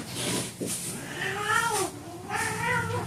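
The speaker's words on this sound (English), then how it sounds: "Cats." Cats meow and yowl in several drawn-out, rising and falling calls, fairly close and clear with no talking, during a vlog recorded around Hurricane Beryl.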